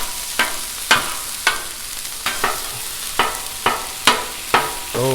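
Chorizo fries on a hot griddle while a spatula chops and scrapes through it, with about eight sharp, evenly spaced metallic scrapes over a constant close sizzle.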